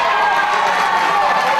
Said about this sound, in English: a great reaction from the crowd here in Cork